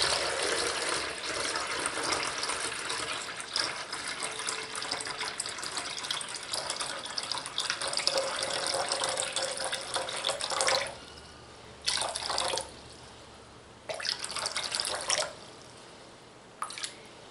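Water from a tap pouring into a pitcher for lard lye soap, a steady splashing stream for about ten seconds, then several short bursts of pouring with pauses between, close and clear with no talk.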